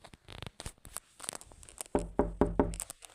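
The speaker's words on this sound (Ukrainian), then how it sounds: "А ну-ка ща постукаю." Knocking on a door: a few scattered light taps, then a burst of three or four firm, close, resonant knocks in quick succession, heard alone without talk.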